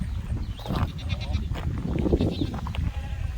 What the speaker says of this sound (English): Over here we have like a baby goat.